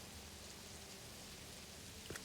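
A steady, faint hiss of rain falls in the game Satisfactory, a continuous even wash of drops with a brief knock near the end.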